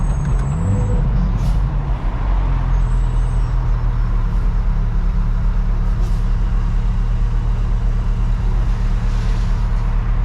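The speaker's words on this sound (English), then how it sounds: "the burbles and backfires on this thing are fucking bananas" A Chevrolet Corvette C8 droning loudly and steadily with a deep exhaust note while driving, low rumble constant throughout, with a few faint crackles riding on top rather than distinct backfire pops.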